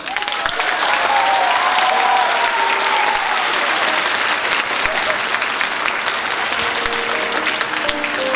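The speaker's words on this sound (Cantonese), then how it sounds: "大家唔好吝嗇啲掌聲喎" An audience at a joint Anglican primary school graduation ceremony applauds a teacher receiving a long-service souvenir, dense sustained clapping filling the hall for several seconds, with a faint voice and tone drifting underneath.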